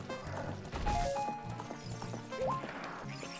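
A horse in the video game Ocarina of Time clip-clops in a quick rhythm with a short whinny, mixed with game music and effects.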